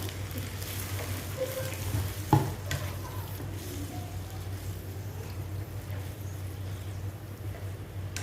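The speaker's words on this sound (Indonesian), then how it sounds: "santan yang 200 ml, masukkan ke sini." Coconut milk simmers and cooks down in a pan for spicy jengkol balado with anchovies, a steady soft bubbling sizzle with occasional stirring scrapes and one sharper clink near the middle, no voices.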